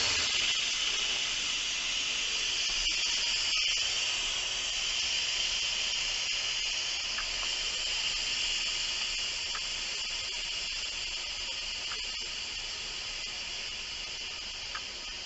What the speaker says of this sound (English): I'm going to release the nozzle and release any of the excess steam that's in the pot.